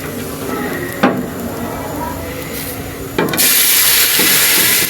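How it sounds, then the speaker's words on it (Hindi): Beef stock poured into a hot butter tempering, starting with quiet background, then a couple of sharp pours and splashes, ending in a sudden loud, sustained sizzle. "अब मैं इसमें यखनी डालूँगी"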